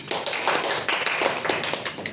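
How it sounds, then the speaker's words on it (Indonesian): A class of students claps together in a steady patter of many hands, fairly loud and dense, with no voices over it. "Tepuk tangan untuk Hesti."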